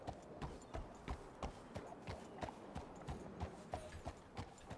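Hooves clip-clop in a steady, even rhythm, a regular trot of sharp knocks repeating close by with no other sounds, from a horse in the video game Red Dead Redemption 2.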